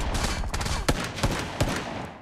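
Uzi fire in a shooter video game sounds as rapid, close bursts of gunshots with several sharper cracks standing out over a dense, continuous rattle.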